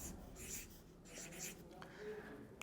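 A green pen drawing on a surface during a chemistry lesson, with short scratchy strokes in bursts, close and fairly quiet, under a faint room background.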